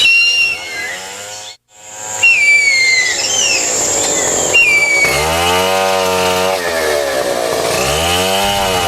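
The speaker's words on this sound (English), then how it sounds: "The valuable hardwood of the kumaru tree is sought out by loggers." Loggers' chainsaw cutting kumaru hardwood in the Amazon rainforest, a loud whining engine with a brief break before revving back up and a deeper, throbbing bogging tone as it bites into the wood.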